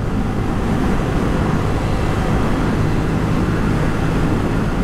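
A KTM Duke 790 motorcycle with a 790cc engine rides hard at speed, a dense, continuous roar of engine and wind rushing past, loud and unbroken.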